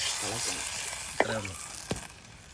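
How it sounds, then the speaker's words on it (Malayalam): A pan of tamarind water with curry leaves simmering and sizzling on a home stove, a soft steady hiss with a few brief stirring clinks and bubbling bursts, close and fairly quiet. "പുളിവെള്ളം ഒഴിച്ചു കൊടുക്കാം."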